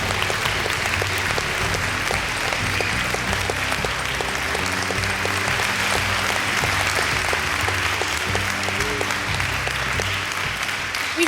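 A gala audience gives a sustained, dense round of applause, loud and continuous throughout with no pauses, filling the hall from start to finish.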